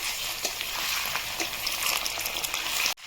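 Fish frying in a pan over medium heat with already-fried chopped onions, giving a steady, fairly loud hiss and crackle throughout that cuts off abruptly at the end.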